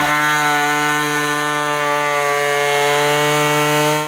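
A small oscillating multi-tool cuts away plastic trim while fitting a Blue Ox base plate kit to a vehicle, producing a loud, continuous, even buzzing whine that holds steady without pause from start to finish.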